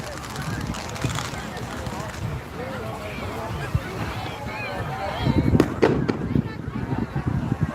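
Fireworks go off over the beach at Destin, Florida, a few sharp bursts near the end standing out above a steady wash of crowd chatter, wind and surf.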